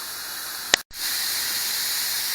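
Hot steam venting from a pressure canner while canning ground beef, a steady loud hiss that runs on with only a brief break near the start.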